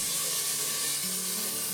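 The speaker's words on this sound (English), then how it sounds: "in go the potatoes with a very satisfying sizzle" Potatoes going into a hot air fryer basket give a soft, steady hiss of sizzling oil, close and fairly quiet, with a faint low hum beneath and no talk.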